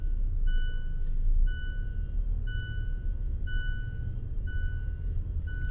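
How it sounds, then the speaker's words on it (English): A car alarm beeps in a steady repeating pattern of short, even tones at a ferry terminal in the early morning, heard at a distance over a heavy low rumble of idling engines. "It's a car alarm."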